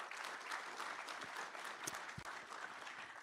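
A quick round of audience applause at the Pennsylvania Defense and Innovation Summit, a faint, even patter of clapping from a crowd heard from a distance, with a few sharper claps standing out.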